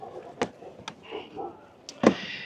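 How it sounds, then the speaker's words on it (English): Window on the door of a BRS Sherpa Gen 3 teardrop trailer being lowered, with a few sharp clicks and a firmer clunk near the end, close by and fairly quiet. "The window on the Sherpa door does open up, and so you can drop this down"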